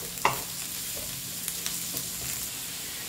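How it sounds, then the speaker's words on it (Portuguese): A small red onion sautéing in a pan, a steady soft sizzle with a few light stirring clicks and scrapes near the start, close and continuous, no voices. "eu vou colocar aqui, ó, uma cebola roxa pequena. Vamos dar uma refogada aqui."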